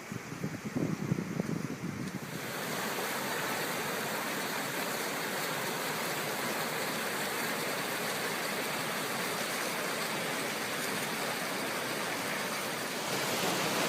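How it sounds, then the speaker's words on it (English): Roaring canyon waterfalls, many falls together, a steady dense wash of rushing water that holds loud and even throughout, with a little rumbling disturbance at the very start. "there's the water. You can hear it roaring. Lots of waterfalls."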